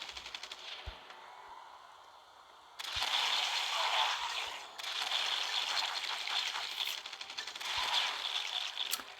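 Rapid automatic gunfire rattles steadily in The Walking Dead: No Man's Land as walkers are shot, one long sustained burst after a brief quieter stretch, loud and close with no talk.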